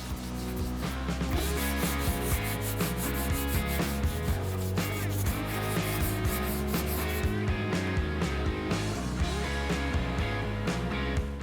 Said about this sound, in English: When you're sanding it just kind of lightly to see if it's ready to sand or not